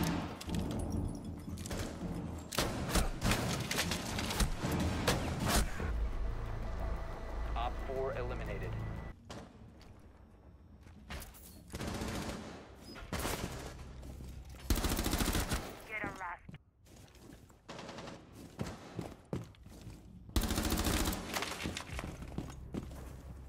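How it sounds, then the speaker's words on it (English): Gunfire, including shotgun blasts, rings out in a Rainbow Six Siege match, loud bursts repeating in clusters with quieter gaps between them, mixed with game effects and a voice talking over the action. "Here's a clip of someone who does not know how to use a shotgun"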